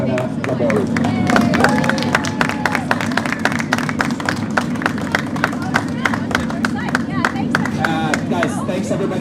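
A crowd at the 2024 Milton Point Cup women's final applauds the winners with sustained, dense clapping close by, mixed with some cheering and background chatter.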